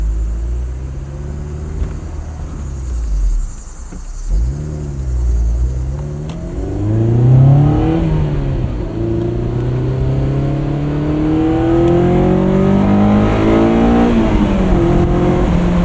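A 2001 Honda S2000 sports car on Fortune Auto 510 coilovers is driven hard from inside, its engine rising and falling through repeated revving climbs and gear shifts, loud and continuous with no talk.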